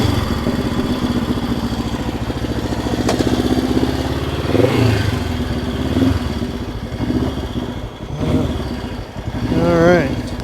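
A Honda CL77 Scrambler motorcycle is kick-started and then runs with a steady, close, rattly engine putter that swells briefly, while someone talks nearby.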